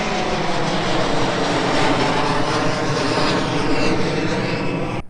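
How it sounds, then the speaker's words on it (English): A jet airliner passes low overhead on final approach to land at Reagan Washington National Airport, seen from Gravelly Point, giving a loud, steady broadband roar that holds across the clip and cuts off at the end. "the planes are coming in so low when they're coming in over Gravelly Point to land"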